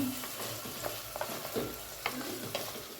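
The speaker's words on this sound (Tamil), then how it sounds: "இது கொஞ்சம் இந்த ஆயிலே வதங்கட்டும் ஒரு ரெண்டு நிமிஷம்" Brinjal (eggplant) pieces sauté in hot oil for sambar, giving a steady close sizzle broken by soft stirring scrapes.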